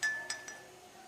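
A metal pin dropped into a glass makes one sharp, bright clink followed by two fainter taps. The sound is quiet and close, with no voices.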